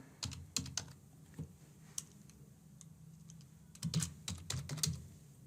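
Fast, irregular keystrokes clatter on a computer keyboard as test card payment details are typed in, quiet and close, with short pauses between bursts.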